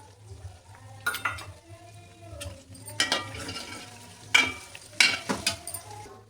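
Chicken curry frying in a pan after turmeric is added, a soft continuous sizzle under intermittent scraping and clinking of a spoon stirring against the pan.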